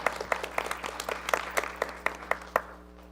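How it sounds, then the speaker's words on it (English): An audience at a board of education meeting applauds, a steady patter of hand claps with a few louder individual claps standing out, fading off after about three seconds. "let's give a round of applause for David Greenfelder."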